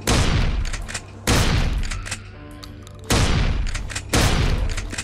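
Four loud shotgun blasts in a horror video game, each a heavy boom with a long ringing decay, coming at irregular intervals with no talking.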